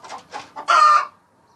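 Hens on a poultry farm raising a short burst of loud squawking cackles, several broken calls building to one sustained, harsh outcry before cutting off, heard alone and close by.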